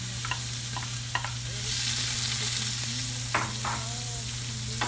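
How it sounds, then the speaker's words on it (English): Onion frying in hot oil in a pan for chicken cacciatore, a steady low sizzle under occasional stirring clicks and scrapes, with a constant low hum running beneath. "now we're going to add the onion"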